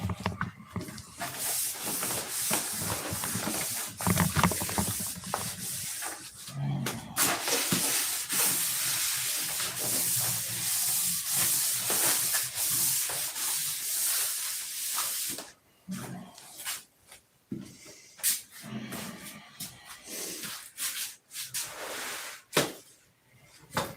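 Sanding a workpiece during repeated sand-outs in a shop, a loud steady broadband hissing rasp for about fifteen seconds, then breaking into shorter intermittent bursts with pauses and some voice underneath.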